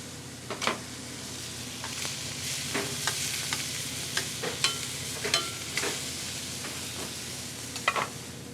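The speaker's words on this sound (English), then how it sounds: "The fish is sautéed in clarified butter." Fish sautéing quickly in clarified butter gives a steady background sizzle, broken by repeated sharp clicks and scrapes of a utensil stirring the pan.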